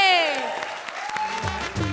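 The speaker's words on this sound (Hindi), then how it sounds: "हाथ खोलो, ताली बजाओ राजू भाई के लिए।" Studio audience applause during a comedy show, a short burst of claps mixed with a tonal musical sting and a speaking voice over it.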